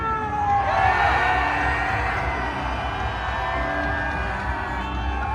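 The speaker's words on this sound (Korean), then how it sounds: "승리 함성 시작!" A large crowd in Korea cheers and shouts in victory after the constitutional court rules to remove the president, with sustained roaring, whoops and voices at a fairly loud, even level.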